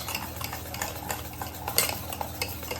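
Chocolate cake batter made with biscuits, milk and Eno being stirred quickly in a bowl, a steady scraping swirl with light utensil clinks against the dish, close and continuous with no talking.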